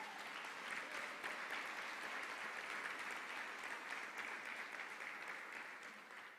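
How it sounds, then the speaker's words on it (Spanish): A church congregation applauding during a sermon, dense continuous clapping from many people that holds steady for several seconds and tapers slightly at the end, moderately distant. "Dele un fuerte aplauso al Señor"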